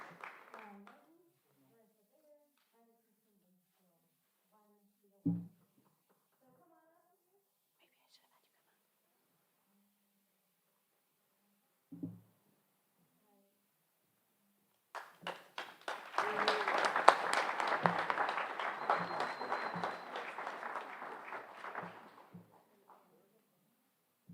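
Audience applause at a high school senior awards night: after long quiet stretches with a few soft sounds, a burst of clapping from the crowd rises, holds for several seconds and fades out.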